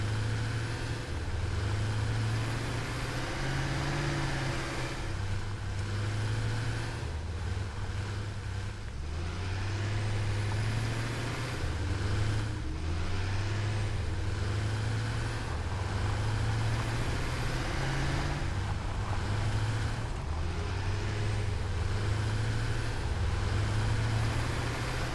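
A tractor driving in the video game Satisfactory, a continuous low engine drone with a rising and falling tonal hum repeating every few seconds, steady and moderately loud over a constant rushing background.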